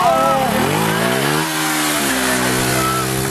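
A motorcycle engine runs loud and close, its pitch sliding downward and then settling into a steady throaty idle, with a brief voice near the start.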